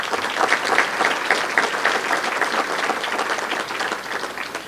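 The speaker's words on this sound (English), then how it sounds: "Give him another round of applause." Audience at a State of the Economy address breaks into sustained, dense applause, near and steady throughout with slight swells, and no speech over it.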